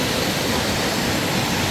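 Thommankuthu waterfall in a forest, a steady broadband rush of falling water filling the whole moment, close and loud with no break or voices.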